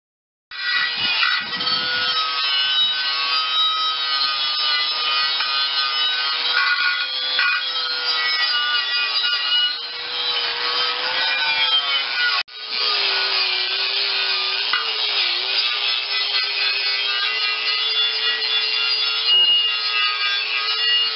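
Steel tractor wheel rims are sanded down with a power sander, a loud, steady, close grinding whir that runs almost nonstop, broken by one short dip partway through, with no voices.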